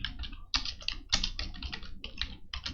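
Fast, close typing on a computer keyboard, with dense clusters of key clicks in irregular bursts and short pauses between them, no voices.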